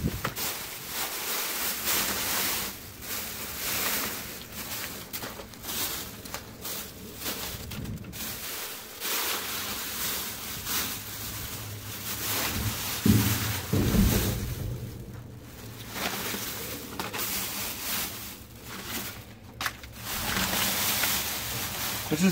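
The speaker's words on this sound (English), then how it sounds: "Man, it is super windy out." Strong outdoor wind buffets the microphone beside a bank dumpster, a rough gusting roar with surges and lulls, while someone talks now and then.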